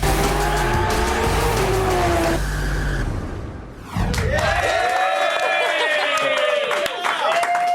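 At the Long Beach Grand Prix, a car revs and pulls away with loud, sustained tire squeal and skidding, its engine note climbing sharply after a brief dip, up close and dominant.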